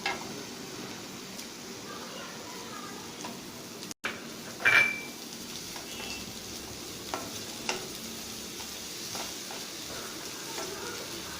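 Chopped onion and green chili sizzle and fry in a pan, a steady close hiss with occasional stirring clicks and a small metallic tap.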